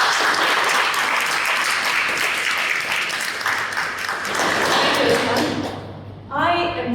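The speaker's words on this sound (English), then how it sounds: "So with a big round of applause," An audience at a Toastmasters meeting gives a big round of applause, steady crowd clapping that fades out near the end before a voice begins speaking.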